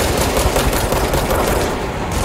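Minigun firing in the video game Control, a loud, dense, continuous rapid burst of gunfire filling the whole moment.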